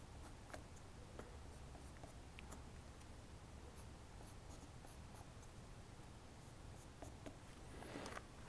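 A knife carves a wooden gnome's shoes with faint, close, scratchy ticks and small scrapes scattered over a quiet background, followed by a brief louder scrape at the end.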